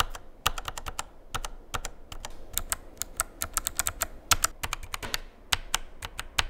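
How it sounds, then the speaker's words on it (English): Logitech mechanical keyboards typed on up close, a fast, irregular run of sharp clicky keystrokes with brief pauses, loud and with no voices. "I'm gonna play this back right now for you guys to hear the sound that each of these keyboards make."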